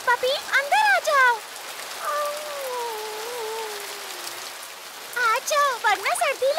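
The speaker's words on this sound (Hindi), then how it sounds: "बारिश होने लगी।" Rain falling in an animated children's train cartoon, a soft, steady patter of raindrops in the background while cartoon voices talk and call out over it.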